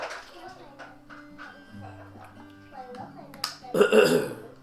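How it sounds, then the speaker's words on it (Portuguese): Someone speaks, then pauses for an abrupt, rough throat-clearing cough close to the microphone. "Desculpa aí hoje o pigarro, é tosse"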